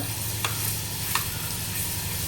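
Ginger, garlic, chili and coriander paste frying in a hot pan, a steady close sizzle with a couple of sharp scraping stirs, no talking.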